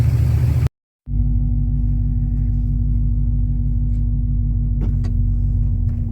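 A loud burst of noise cuts off, then a 1989 Dodge D150 pickup truck engine idles steadily nearby while warming up, with a deep, even rumble and a faint mechanical whine.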